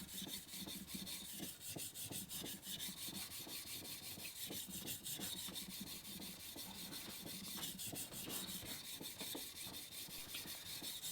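A curved plane blade is rubbed back and forth on a sharpening stone to remove a burr, giving steady rhythmic rasping strokes that repeat for about eleven seconds, close and even, with no talking.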